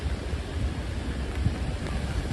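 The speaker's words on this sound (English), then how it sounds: "it looks like the rain's picking up a little bit" Rain falls on a Midtown Manhattan street on a stormy Sunday night, a soft, steady wash of drops and low city rumble with gusty wind buffeting the microphone, no voices.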